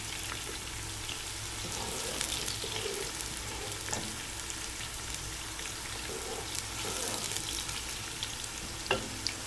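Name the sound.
stir frying chopped spring onions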